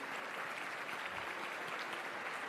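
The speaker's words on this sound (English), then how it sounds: "Let's give them some applause for what they do for our community." An audience at an annual Black and White Ball and business awards event gives dense, steady applause throughout, filling the room evenly without a break.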